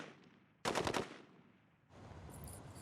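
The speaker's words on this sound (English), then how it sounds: "Suddenly, gunshots pierce the silence" A rapid burst of several gunshots in a film fires in quick succession, loud and sharp, as militants hunt a gazelle in the desert, followed by a quieter rushing ambience.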